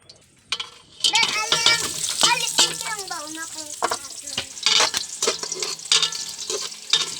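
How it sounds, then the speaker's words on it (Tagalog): Garlic and spices sauté in hot cooking oil in a home kitchen, a bright crackling sizzle with clinking stirs of a utensil against the pan and a brief voice near the start. "magpainit muna tayo ng mantika mga idol para gisahin yung mga rekado natin"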